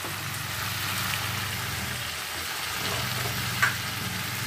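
Spices, tomato and green chillies sizzling in oil in a pan for a fish curry, a steady close frying hiss with soft stirring scrapes and one brief clink near the end.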